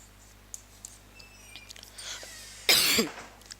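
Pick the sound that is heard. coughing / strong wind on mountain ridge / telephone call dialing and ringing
coughing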